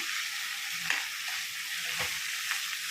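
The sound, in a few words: stirring tomato, coriander and mint while frying in a pan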